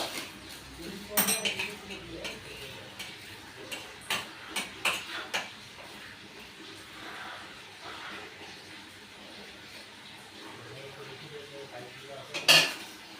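Red amaranth greens, fried with garlic and dried chilli, are tipped from a pan onto a plate, with a series of sharp metallic clinks and scrapes of a spoon against cookware and a louder clank near the end.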